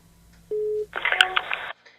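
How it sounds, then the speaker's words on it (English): A Portuguese telephone line tone heard through a handset: a short steady beep, then a brief burst of harsher buzzing tone, close and fairly loud, before stopping. "now he's got one of those weird Portuguese dial tones"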